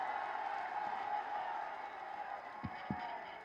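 A crowd at a public rally applauds to welcome the chief minister, a broad steady wash of clapping and cheering with a couple of sharp thumps near the end.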